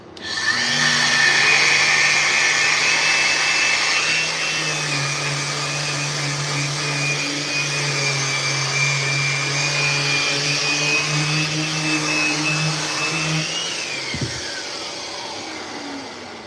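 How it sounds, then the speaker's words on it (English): A DeWalt power tool shaping a wooden skateboard deck, hooked to a Festool dust-extraction vacuum, whines with a high steady motor tone over the vacuum's broad hum, sustained for about fourteen seconds before spinning down. "This is hooked up to a Festool vacuum"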